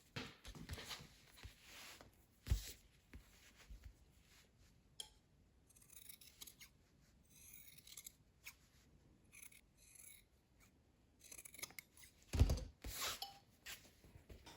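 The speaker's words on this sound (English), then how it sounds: "the next step is to trim away the seam allowance" Scissors trim the seam allowance on a sewn sleeve cuff. Faint close snips and rustles come intermittently, with two sharper cuts standing out, alone in a quiet room.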